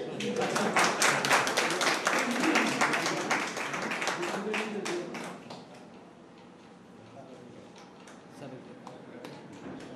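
An audience breaks into dense, rapid applause that stays loud for several seconds, then thins into scattered claps under a murmur of voices.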